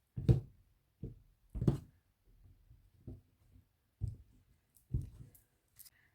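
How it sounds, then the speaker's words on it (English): A tarot card deck is cut and handled for a general reading, giving a series of sharp, close card snaps and shuffles at irregular intervals, each followed by faint rustling, with no talking. "Let's cut the deck."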